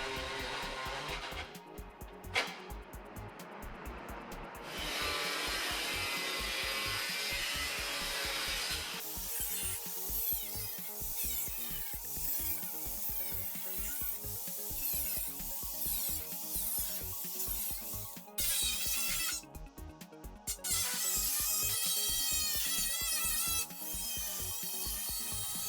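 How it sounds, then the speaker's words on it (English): A pneumatic air saw rasps steadily through BMW E30 325i chassis sheet metal, its loud, continuous buzzing chatter running for long stretches with brief pauses and restarts, close up with no voices. "Every now and again I'd switch to the air saw for a few sections which were hard to get to"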